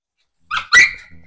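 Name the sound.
dog barking on a farm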